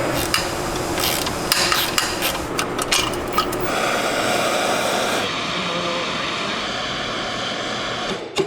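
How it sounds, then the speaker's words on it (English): Hammer blows beating out a triangular metal exhaust flange on a donk car, several sharp strikes in the first few seconds followed by steady scraping and shop noise. "Triangle flange, gotta beat it out a little bit."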